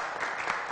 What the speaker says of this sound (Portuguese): vamos aplaudir os nossos convidados